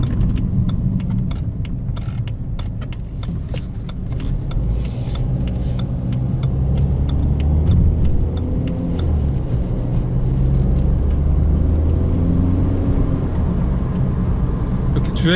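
Low, steady road rumble and engine drone fill the cabin of a BMW 320d while driving, continuous under a person talking throughout.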